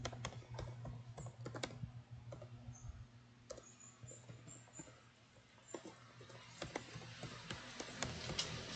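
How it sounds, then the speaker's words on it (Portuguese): An email address is typed on a computer keyboard, a quiet run of uneven key clicks and taps coming close together, with no talking. "Eu vou digitar o meu e-mail."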